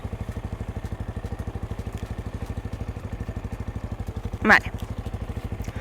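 A manual-gear motorcycle idles in neutral with an even, rapid low putter that stays moderately loud throughout, and a single short spoken word breaks in near the end.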